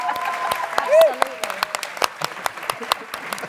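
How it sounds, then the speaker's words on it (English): Applause from a festival masterclass audience, a steady patter of many hands with sharp individual claps standing out, while voices talk and a tonal whistle-like sound rises briefly over it. "That's a round of applause."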